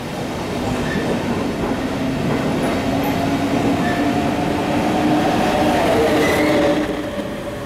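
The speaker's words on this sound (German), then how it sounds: "Wieder mit einer modernen Drehstromlok der Baureihe 146 verlässt dieser Regionalexpress den Hauptbahnhof nach Schwäbisch Hall-Hessental." A regional express hauled by a class 146 three-phase electric locomotive pulls out of the main station toward Schwäbisch Hall-Hessental, a loud, steady rolling rumble with faint wheel clatter and a thin squeal building as the train passes close by.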